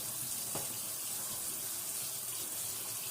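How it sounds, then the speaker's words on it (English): Water drained off cooked sausages in a pan, a steady broadband pouring rush into a sink, continuous and fairly loud throughout with no talking. "you go ahead and drain your water off your sausages"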